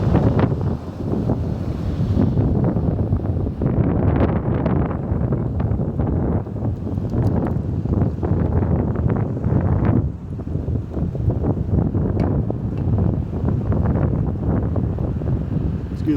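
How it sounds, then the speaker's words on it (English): Outdoor wind buffets the microphone with a loud, continuous low rumble and gusty roar that fills the whole stretch. "it's windy out here"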